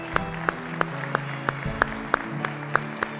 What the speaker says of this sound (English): Let us give the Lord a round of applause this morning